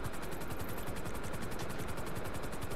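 A helicopter in a video game thumps with steady, rapid rotor chop, loud and continuous for about three seconds with no voices.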